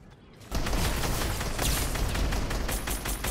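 Bursts of gunfire from a Fortnite match, a dense rapid volley that kicks in loudly after a short quiet start and keeps rattling steadily to the end.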